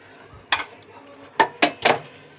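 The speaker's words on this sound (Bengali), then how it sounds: "এবার আমি এটাকে ঢাকা দিয়ে রেখে দেব" A metal lid clatters onto a pan of fish curry cooked with sesame, with a few sharp clinks and knocks spaced over a couple of seconds in a quiet kitchen.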